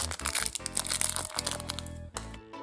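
A small plastic wrapper around a Kinder Surprise toy crinkles and crackles close by in quick, dense bursts, with a brief pause near the end and no talk.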